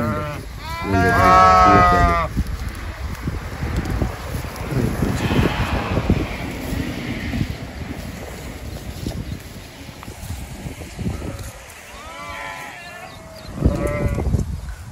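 A flock of sheep bleats loudly nearby, several overlapping calls at the start and more near the end, over wind and shuffling hooves.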